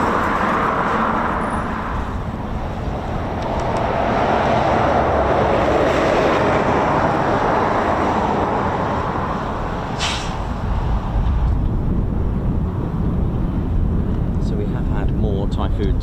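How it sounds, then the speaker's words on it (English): Broad roaring jet noise from Eurofighter Typhoon FGR4 fighters taking off at RAF Coningsby, swelling and fading across the airfield, loud and sustained with a voice talking over it. "Typhoons go out"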